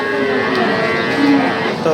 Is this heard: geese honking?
no